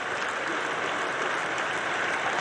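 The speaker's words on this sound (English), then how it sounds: "Crowd here getting into it in Tampa" An ice hockey arena crowd in Tampa cheers and roars in a steady, loud, dense wash of noise during an NHL game, with no distinct voices standing out.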